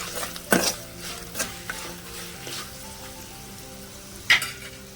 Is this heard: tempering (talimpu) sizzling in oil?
yes